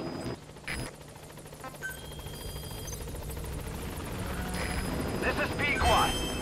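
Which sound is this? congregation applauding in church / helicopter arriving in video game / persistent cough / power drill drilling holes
helicopter arriving in video game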